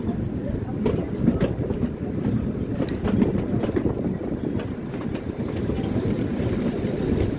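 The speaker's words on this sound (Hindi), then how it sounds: "और ये ट्रेन यहाँ भी नहीं रुकेगी।" Kalka–Shimla toy train rolling along the rails, a steady dense rumble with faint intermittent clicks and rattles throughout, continuous and fairly close.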